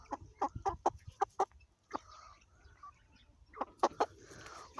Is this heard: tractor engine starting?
no